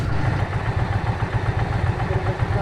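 A motorcycle engine idles nearby, loud and steady with a low, even chugging pulse throughout, no voices over it.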